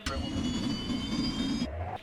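A jet airplane engine roars steadily, loud and close, during a race against a Honda motorcycle, then the roar cuts off and a lower engine hum follows.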